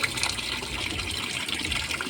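Water being refilled during a board test, a steady rushing gush of liquid that runs continuously and close by.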